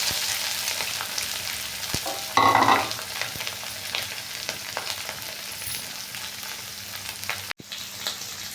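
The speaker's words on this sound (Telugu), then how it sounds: "కట్ చేసుకున్న ఉల్లిపాయ ముక్కలు, పచ్చిమిర్చి ముక్కలు, 1 రెమ్మ కరివేపాకు వేసుకోవాలి." Chopped onion, green chili pieces and a sprig of curry leaves fry in hot oil with a continuous crackling sizzle. A louder burst of spitting comes as they go in, then stirring scrapes follow.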